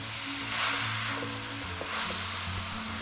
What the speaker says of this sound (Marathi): गाजर तुपात चांगला परतून घ्यायचा.